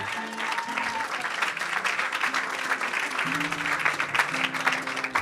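Church congregation clapping and cheering steadily throughout a lively worship service, dense continuous applause with a few voices calling out above it.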